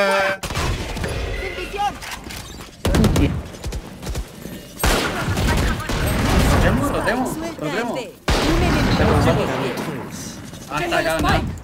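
Raze grenade blasts and gunfire in a Valorant match, loud bursts of explosions and rapid shots recurring in several heavy waves, while players shout and talk excitedly over the action.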